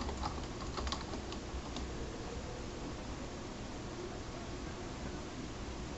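Steady keystrokes on a computer keyboard typing out a short word, soft clicks running through a constant hiss of background noise.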